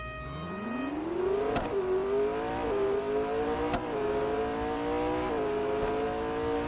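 McLaren 600LT drag race in Real Racing 3, the engine revving hard and climbing in pitch, then droning through several upshifts with brief dips and sharp clicks at each gear change.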